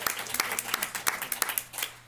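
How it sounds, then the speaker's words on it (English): Clapping at a Board of Education meeting, a short run of separate, fairly close hand claps from a small group with an uneven rhythm. "We got to applause again."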